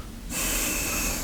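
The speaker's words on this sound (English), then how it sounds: "breathing in" A single slow breath drawn in, close and soft, with a steady airy hiss that rises after a brief quiet moment and holds to the end.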